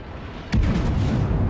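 A warship's main guns fire in a World of Warships naval battle, one sudden heavy boom followed by a rolling, rumbling decay, loud and close with no voices.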